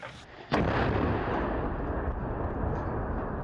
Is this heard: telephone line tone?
no